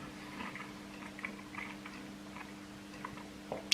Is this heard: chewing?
yes